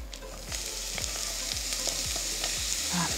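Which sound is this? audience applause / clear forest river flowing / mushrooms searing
mushrooms searing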